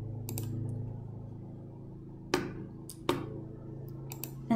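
Several sharp, isolated computer mouse clicks while a digital card is edited, a pair near the middle and a few more near the end, over a low steady room hum.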